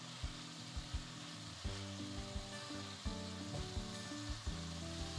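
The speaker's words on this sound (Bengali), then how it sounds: "আর মশলা কষানোর সময়তেই ভাজা আলুর টুকরোগুলো দিয়ে দিচ্ছি।" Masala sizzles in a pan as fried potato pieces are added and cooked in, a steady hiss under a regular series of soft knocks and scrapes from stirring, with no talk.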